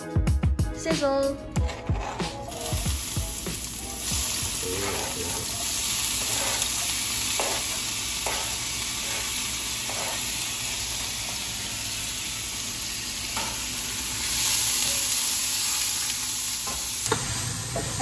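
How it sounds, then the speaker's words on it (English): Food sizzling and frying in a pan with stirring, a steady loud hiss that runs throughout, with clinks of utensils near the start and some brief talk. "Sizzle."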